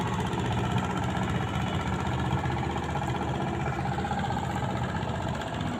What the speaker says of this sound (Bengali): আরও নৌকা যাচ্ছে যাত্রীদেরকে নিয়ে।